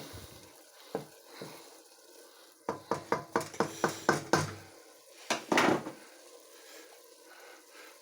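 Savoury rice stirred in a pot: a spoon scrapes and knocks against the pot in a quick run of rhythmic clinks, with a soft sizzle in the background and quiet stretches between.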